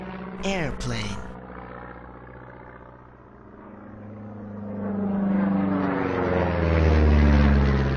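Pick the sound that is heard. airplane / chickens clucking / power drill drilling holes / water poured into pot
airplane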